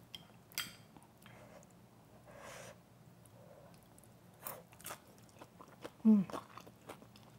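Crunchy fried Korean rice cake side dish from a readymade meal being bitten and chewed close up, with scattered crisp crunches and a light clink of utensils amid quiet background noise.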